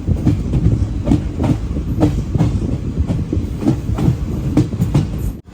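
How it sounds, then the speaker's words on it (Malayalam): Loud rhythmic clickety-clack of train wheels rolling over rail joints as the train arrives at Ramanathapuram railway station, a steady repeating beat with a deep rumble underneath, cutting off abruptly at the end. "രാമനാഥപുരം റെയിൽവേ സ്റ്റേഷനിലേക്ക് ഇതാ നമ്മുടെ ട്രെയിൻ എത്തിക്കൊണ്ടിരിക്കുകയാണ്"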